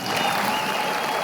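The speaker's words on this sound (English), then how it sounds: "There's applause?" A brief, dense wash of applause, steady clapping at moderate level with no pauses.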